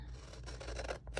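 Scissors snip through paper for a journal's monthly decorations, a quick run of close, dry cutting strokes with a brief pause near the end before a final snip.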